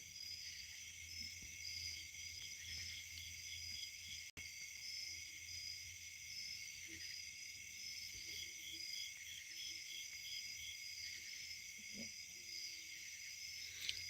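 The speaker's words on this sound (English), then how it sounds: "Can you hear these bugs?" Crickets or other bugs chirp outdoors in a steady, continuous high-pitched drone that stays constant throughout, with faint scattered background sounds.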